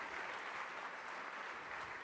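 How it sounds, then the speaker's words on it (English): Another round of audience applause for Apple's Phil Schiller after his speech at the launch of the Shea Center for Entrepreneurship, a faint, steady wash of clapping from a distant crowd that lasts the whole moment without any voice over it. "I'd like to give him another round of applause"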